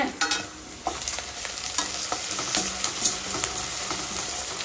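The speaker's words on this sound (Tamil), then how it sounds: "இஞ்சி பூண்டு பேஸ்டும் சேர்த்துக்கலாம். வெங்காயம் நல்லா வதங்கிடுச்சு." Onions with ginger garlic paste frying in a pan, a bright continuous sizzle broken by repeated scraping stirs of a utensil, close and fairly loud.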